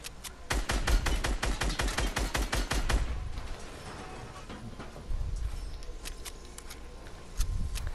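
A rapid burst of Fortnite Battle Royale gunfire rattles out as a steady string of sharp cracks for a couple of seconds, followed by quieter scattered game noise and a few distant thumps.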